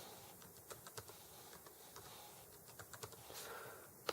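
Keys tapped on a computer keyboard as a password is entered during a server software install, a few quiet, irregular clicks spread over a few seconds with a soft final keystroke, no talking.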